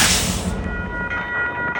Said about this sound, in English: so I think I'll give this train a chase as far as I can go.